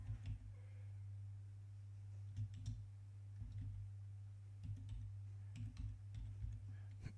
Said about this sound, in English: I'm going to type my text in.